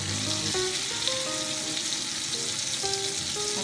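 Bread slices fry in a pan for Dutch-style French toast (wentelteefje), giving a steady, even sizzle with faint tonal music in the background.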